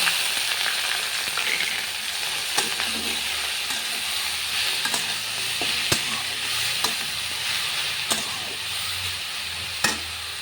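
Spinach leaves fry in an oiled pan with a continuous loud sizzling hiss, broken every second or two by crisp spatula knocks and stirring scrapes, close-up with no voices.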